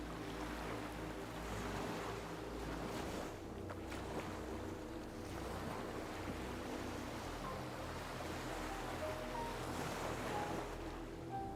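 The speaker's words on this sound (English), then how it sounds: "Unawatuna Beach is a golden crescent along Sri Lanka's southern coast, offering calm, shallow waters ideal for year-round swimming and snorkeling." Surf washing ashore at Unawatuna Beach, a calm golden crescent bay on Sri Lanka's southern coast, with a steady continuous wash and a low rumble from wind across the microphone. There are no voices.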